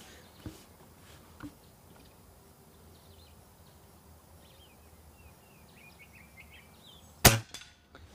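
A single sharp, loud crack of a Weihrauch HW77 Special Edition 4.5 mm air rifle shot late in the clip, after a quiet outdoor stretch with faint birdsong and a couple of soft knocks.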